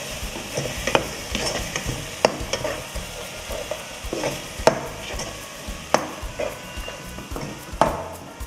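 Chili, coriander and turmeric powders stirred through a biryani pot, with steady sizzling frying underneath and sharp, irregular clinks of a spoon against the metal pot standing out every second or so.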